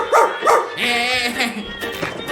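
A person imitates a dog barking at a night-time entertainment centre, two short yelping barks followed by whining, whimpering dog-like sounds, close and fairly loud amid laughter.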